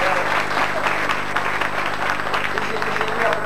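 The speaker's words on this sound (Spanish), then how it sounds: "Vamos a aplaudirlo antes de que empiece" Steady applause from an audience at a school poetry contest fills the space, an even wash of clapping with a low hum running beneath it.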